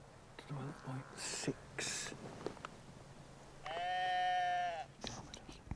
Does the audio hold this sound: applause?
no